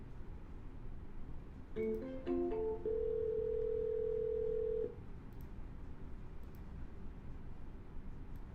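A telephone line carries a short run of quick tones, then a single steady tone held for about two seconds before it cuts off. Quiet line hiss remains afterward, and no one speaks.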